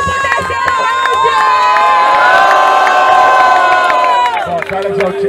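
Loud crowd at a Rio de Janeiro state final rap battle cheering and shouting continuously, a dense roar of whoops and yells that swells through the middle and holds nearly to the end.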